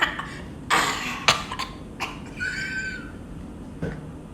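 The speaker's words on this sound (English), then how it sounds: "It's just coughing noises" Several sharp, close coughs scattered over a few seconds, with a brief whistling squeak in between and quiet pauses.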